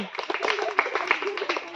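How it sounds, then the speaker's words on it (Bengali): A group of village children claps hands in a quick, uneven burst of light slaps during a game, with voices mixed in. "হাততালি সবাই।"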